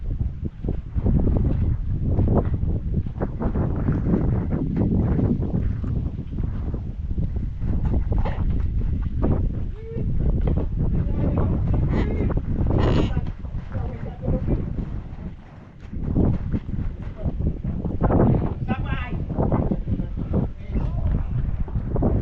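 Strong wind buffets the microphone in a constant low roar, rising and falling in gusts throughout.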